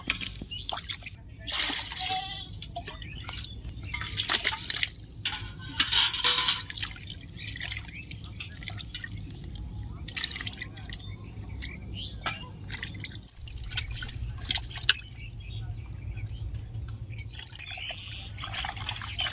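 Lime-soaked fruit pieces for white murabba are rinsed in water, giving irregular drips, splashes and sloshing that come and go over a steady low background hum.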